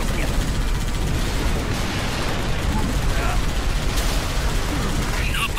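Dense, continuous gunfire crackles through a noisy Halo 3: ODST battle scene, with scattered sharper bursts over a rumbling background.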